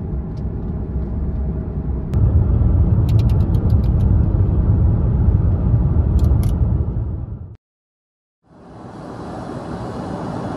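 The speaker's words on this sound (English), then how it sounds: "They cancel most of the airplane white noise" Loud, steady roar of aircraft cabin noise, broadband and constant, briefly cutting to silence before resuming at a slightly thinner, hissier tone.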